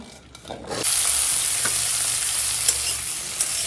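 Potatoes dropped into hot oil with spices in a pan, bursting into a loud, steady sizzle after a brief quieter start, with occasional stirring scrapes up close and no talk.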